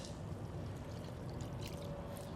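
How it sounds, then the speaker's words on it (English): Diesel pours from a Kenworth show truck during an oil change into a plastic cup, a steady liquid trickle and splash heard close up with no talking. "all I need to do is dump out a cup worth of diesel"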